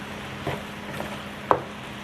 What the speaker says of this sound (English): just saute the spinach and the mushroom together until they are cooked